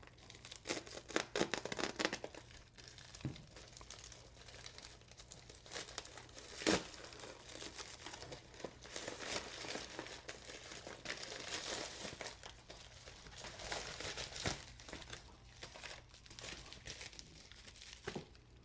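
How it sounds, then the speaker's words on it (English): A cardboard package is cut open with a small knife and unwrapped, giving close, irregular crinkling, tearing and rustling bursts throughout, with no talking. "take my little Amazon knife and I'm going to try to cut into it on the side here"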